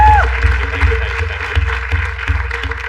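Audience applause on a live comedy talent show, a burst of clapping from a studio crowd that starts loud and continues in uneven waves over the full stretch, with a voice briefly heard at the start.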